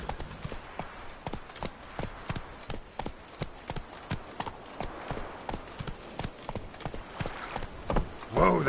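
Hooves of the horse Roach in a video game, a steady run of sharp clip-clop beats at a brisk, galloping pace, close and fairly loud, with a brief louder burst at the end.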